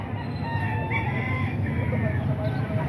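Roosters and chickens at a Calumpit market crow and cluck amid a dense, noisy crowd hum, the bird calls rising over the steady market din.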